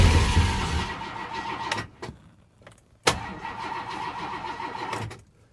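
An abandoned 1968 Ford XL Fastback with a wiring issue cranks roughly, pauses, then cranks again and its engine catches and runs, heard up close with no talk.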